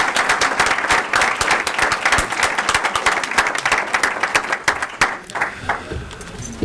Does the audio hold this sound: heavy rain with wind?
no